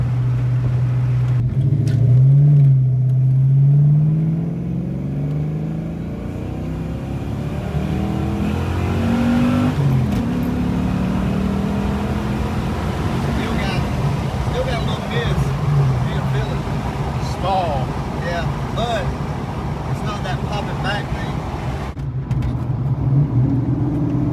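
A car engine that runs badly when cold hums steadily while driving, rising and falling with gear changes, as someone talks over it.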